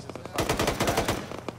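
Rapid automatic gunfire from a video game firefight in Arma, aimed at an armored vehicle near a bunker; a burst of sharp shots in quick rhythm, loud and close, with a few scattered single shots before and after.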